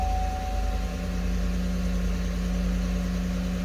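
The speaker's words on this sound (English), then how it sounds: "So right now our idle is pretty high." A 2015 Chevy Silverado with a throttle body fault idles high and steady, a constant engine hum with a pronounced tonal drone and no variation over several seconds.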